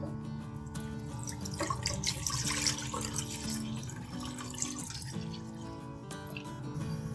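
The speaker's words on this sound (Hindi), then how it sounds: "अब इसमें 2 लीटर दूध डाल देंगे।" Two litres of milk are poured into a kadhai wok set on a stove for carrot kheer, giving a continuous close splashing, trickling stream with a few brighter drips.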